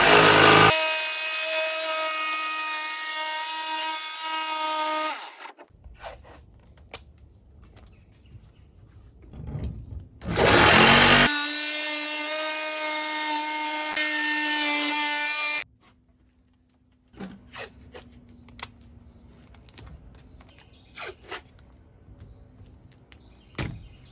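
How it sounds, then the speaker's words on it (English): A jigsaw cuts through a metal van panel for an awning window, a loud harsh buzzing whine in two long runs separated by a pause, followed by lighter clanks and handling noises after the blade stops. "Always let the jigsaw blade stop before you pull the blade out so it doesn't catch the metal"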